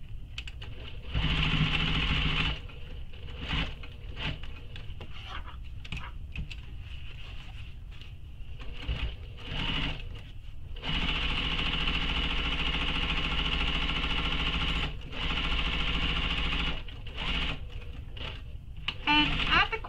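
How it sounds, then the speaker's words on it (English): A sewing machine stitches the long seam of a fabric shoulder bag in fast, whirring runs broken by brief pauses, close and steady in loudness, with no talk. "continue sewing with the seam allowance given in the pattern for the long edges"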